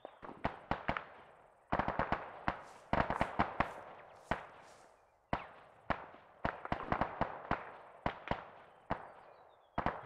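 Enemy gunfire in the Arma 3 Antistasi mode: sharp single shots and quick bursts crack out in irregular clusters, fairly distant, each with a short echoing tail, and no talk over it.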